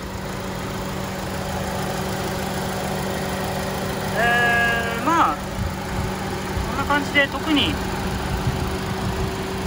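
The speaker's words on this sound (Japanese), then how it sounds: "ではエンジンかけてみたいと思います。 はい、エンジンかけてみました。" A Honda Civic Type R EP3 engine idles with a steady low hum throughout while someone talks over it in the middle.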